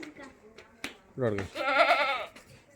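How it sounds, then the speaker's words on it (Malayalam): A crossbreed dairy goat bleats twice in wavering cries, close and clear, after a sharp snap, with quiet surroundings between calls. "നല്ല പാലുള്ള ഒരു ക്രോസ് ബീഡ് ആട്"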